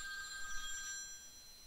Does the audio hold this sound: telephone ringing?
yes